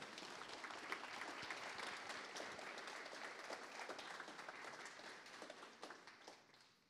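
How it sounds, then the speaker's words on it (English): An audience applauds steadily for a speaker-series guest, dense clapping filling the room at an even level before tapering slightly at the end. "Please give Felix a round of applause."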